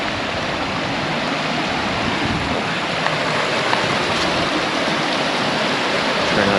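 Clear mountain creek water flows steadily and loudly close by, a continuous broadband rush and babble with no speech over it.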